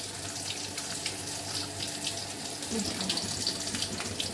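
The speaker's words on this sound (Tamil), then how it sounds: "தேவையான அளவு தண்ணி ஊற்றிக்கலாம்" Steady running water poured into lentils for grinding, splashing continuously at close range, a broad even hiss with no talk over it.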